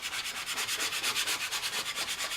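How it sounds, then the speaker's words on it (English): Repeated back-and-forth rubbing over a vinyl decal to press it onto a laptop, roughly a dozen even swishing strokes in a brisk steady rhythm, close and moderately loud, with no voices. "You don't really need to rub real hard at this point because you're just wanting to adhere it to your computer."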